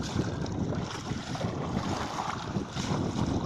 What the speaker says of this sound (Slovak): A motor číslo 1 ide na plné pecky, motor číslo 2 má teraz prácu.